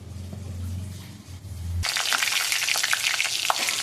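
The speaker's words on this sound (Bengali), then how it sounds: "আমি গরম মশলা, এই তোমার কী বলে, জিরে, পাঁচফোড়ন, জিরে, শুকনো লঙ্কা আর তেজপাতা ফোড়নে দিয়ে দিলাম" Whole spices (garam masala, cumin, panch phoron, dried red chilli and bay leaf) hit hot oil in a wok; after a low hum, a sudden loud crackling sizzle erupts and continues close by.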